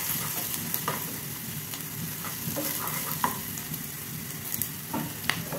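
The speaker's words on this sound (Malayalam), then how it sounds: "പച്ചമുളകും ക്യാരറ്റും കൂടെ ചേർക്കുക. നന്നായിട്ടൊന്ന് വഴറ്റിയെടുക്കുക." Green chillies and carrots sautéing in a pan crackle loudly and steadily, with frequent clinking scrapes of a stirring spoon scattered across the sizzle.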